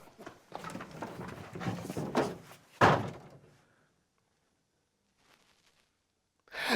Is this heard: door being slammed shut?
yes